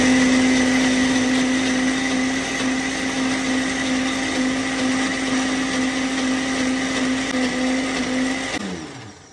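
A blender crushing garlic whirs steadily at high speed with a strong motor hum, then winds down and stops near the end.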